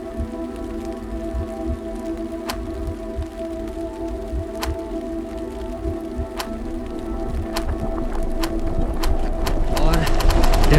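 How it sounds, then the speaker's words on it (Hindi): Heavy rain pours down hard and steady on a mountain trek to Rudranath, with sharp drips tapping on a surface now and then, growing denser toward the end. "यहाँ पे अच्छी खासी तेज़ी से बारिश हो रही है।"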